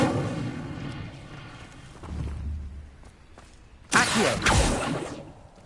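An Incendio fire spell goes off in Hogwarts Legacy on PS5, with a low rumbling buildup followed by a loud, sudden burst of flame and crackle near the end.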